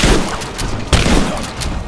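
Video game gunfire from Rise of the Tomb Raider, a loud continuous burst of shots layered over dense combat noise, with a sharp crack near the middle and no clear voices.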